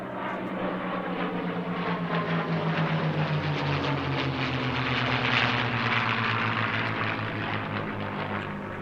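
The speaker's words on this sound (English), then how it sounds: "let you listen to the sound of these Merlin engines." Loud, droning Merlin piston engines of two P-51D Mustangs roar overhead, a rich throbbing rumble that swells and slowly shifts in pitch as the planes pass.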